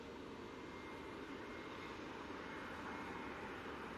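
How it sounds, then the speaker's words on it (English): A Ryanair Boeing 737-800 jet begins its takeoff roll at Manchester Airport, its engines a faint, distant, steady roar with no voices. "737-800 now on the roll."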